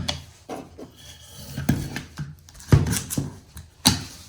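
A SnapStone plank tile being cut down by about a quarter inch during a floor install: uneven, scraping rasps of the cut come in several short bursts of varying strength, with nobody talking.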